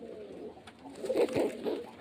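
Several pigeons at a household pigeon sale in Beldanga give low, throaty coos that swell and fade in overlapping rounds, fairly near and unaccompanied by speech.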